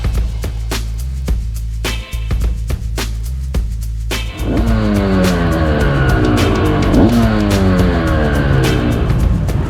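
A 20-year-old Honda CR250 two-stroke dirt bike at a national race: engine idling and blipping, then revving hard through rising and falling gear changes, loud and close.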